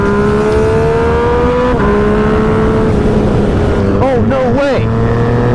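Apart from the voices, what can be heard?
Lamborghini Aventador SVJ engine passing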